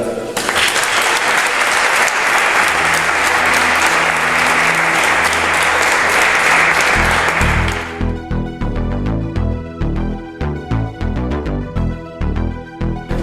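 Audience applause after a talk at a conference on restoring a brotherhood's monstrance, dense steady clapping for about eight seconds, then music with a pulsing beat takes over.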